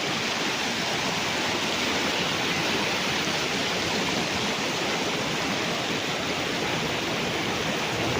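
River water flowing beside a farm lot in Liliw, Laguna, a steady broadband rush that stays even and close throughout, with no voices over it.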